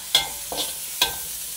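Ginger and turmeric sizzle in a hot pan for kadai mutton curry, with a steady frying hiss and three sharp scraping stirs of a spatula spaced through a short stretch, close and fairly loud, no talking.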